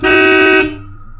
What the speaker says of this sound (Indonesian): Suara klakson mobil tiba-tiba terdengar memanggil dari luar rumah.